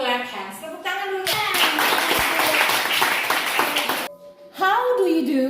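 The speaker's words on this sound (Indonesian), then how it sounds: "Clap hands. Tepuk tangan dulu." A classroom of children claps hands together in a lively burst of applause lasting a few seconds, preceded and followed by a teacher speaking.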